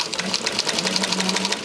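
A SEWPRO 745-30 long-arm, double-needle walking-foot sewing machine with a jumbo bobbin stitches at a steady, rapid pace, close up and loud, its even chatter of needle strokes running throughout.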